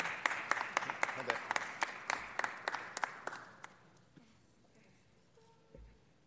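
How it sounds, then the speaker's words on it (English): Sparse applause from a city council meeting audience: a handful of distinct claps in an even rhythm that thin out and stop midway, followed by quiet room tone with faint talk. "Let's give them one more round of applause."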